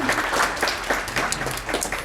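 An audience claps steadily in a brief round of applause, many hands blending into an even patter.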